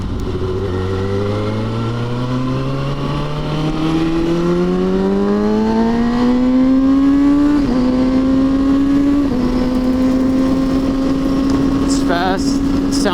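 A loud motorcycle engine revs up steadily, pitch climbing through several gear-like steps before settling into a high idle, close by.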